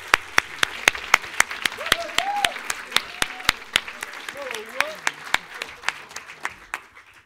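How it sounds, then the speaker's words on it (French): Steady applause from a crowd, many hands clapping continuously with sharp individual claps standing out, and faint voices and cheers mixed underneath. "un dernier tonnerre d'applaudissements pour Dan Dadan"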